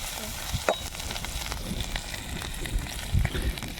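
Hot oil sizzles steadily with a soft crackle, punctuated by a few clinks and scraping stirs in a pan.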